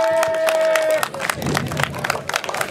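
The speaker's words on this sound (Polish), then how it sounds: "Brawa dla Leszka" A crowd at the Wielka Lipa outdoor festival in Poland bursts into lively clapping and cheering after a sustained tone. The applause is close, uneven and builds through nearly three seconds.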